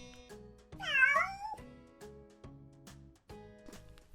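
A domestic cat gives one clear, drawn-out meow, close and fairly loud, over quiet background music.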